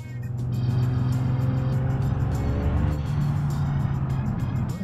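A car's engine in the BeamNG driving game hums steadily and loudly as the turbocharged vehicle pulls away, its tone shifting slightly partway through with no speech over it.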